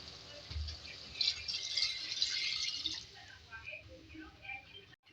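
About one and a half glasses of water pour into a cooking pot of beef aloo gosht over spiced, lightly fried meat. It makes a soft, brief splashing hiss, quiet and close, with no talking.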